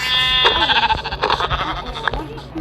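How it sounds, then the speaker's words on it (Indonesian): Sheep bleating in the Minecraft video game, several loud wavering bleats in quick succession with game sounds mixed in around them. "Ini ada domba lagi nih."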